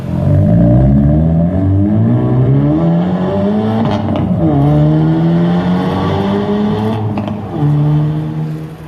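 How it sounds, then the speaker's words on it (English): A Hyundai sports car's exhaust revs repeatedly, rising and dropping in pitch with a deep, throaty roar, loud and steady throughout. "just listen to this exhaust note"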